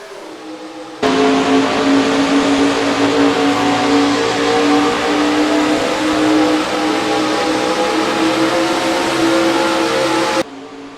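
Stock cars in the NR2003 racing game roar away at the green flag at Vermont, a loud, steady, layered engine drone that kicks in abruptly after a second of quiet and holds for about nine seconds.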